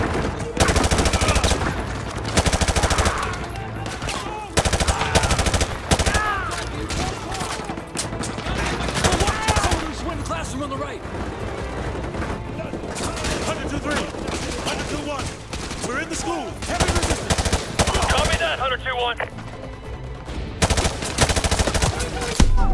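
Heavy, sustained automatic gunfire in the video game Call of Duty: Modern Warfare 2, with dense, loud rapid bursts and brief lulls, and voices speaking over the fighting.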